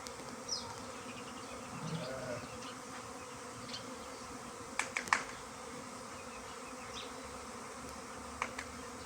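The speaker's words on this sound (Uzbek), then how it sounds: "Mana hali osmonda vobshe ko'p. Juda katta ari." A swarm of bees buzzes steadily outdoors as it gathers around the queen, a continuous droning hum with a few sharp clicks and knocks, no voices over it.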